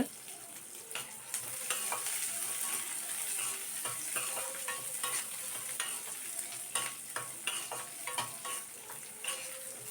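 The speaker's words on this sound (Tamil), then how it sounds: "ஒரு 4-5 பல் பூண்டும் சின்ன சின்னதாக கட் பண்ணி வச்சுருக்கேன், அதையும் உள்ளே சேர்த்து நல்லா வதக்கி விட்டுக்கோங்க" Chopped garlic and onion sauté in a pan for vatha kuzhambu, a constant close sizzle broken by frequent spoon stirs and clicks against the pan, no voices.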